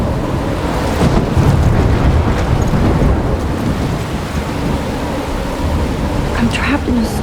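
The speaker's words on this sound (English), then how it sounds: "I'm trapped in a storm?" Thunderstorm with heavy rain and gusting wind, a dense steady roar of rainfall and rumbling filling the whole stretch, loud and close throughout.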